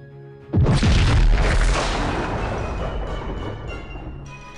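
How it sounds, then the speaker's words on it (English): A Star Destroyer's primary weapon fires, an explosive boom that hits suddenly and loud, then rolls into a long rumbling decay lasting several seconds with no voices. "Charge the primary weapon."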